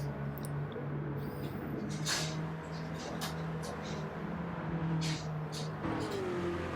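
Lamborghinis, Nissan Qashqais and Toyotas race laps of a track in a driving game, with a continuous engine drone, recurring revving swells and faint passing whooshes carrying on steadily throughout.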